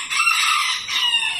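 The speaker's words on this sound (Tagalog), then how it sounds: "Huwag nyo lang intindihin yung manok dyan na napakaingay." Rooster crowing loudly and close, with chickens clucking alongside, one long crow followed by another rising call in quick succession.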